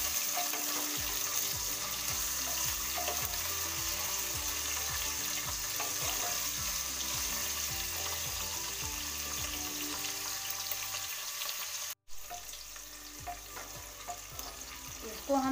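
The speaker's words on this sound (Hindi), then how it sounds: "और 1 हम आलू लिए थे, इसको भी हम डाल देंगे। इसको हम 2-3 मिनट भून लेंगे।" Potato, tomato and cabbage pieces frying in a pan for tahri, a continuous close sizzle with repeated stirring scrapes, a brief break near the end, no talking.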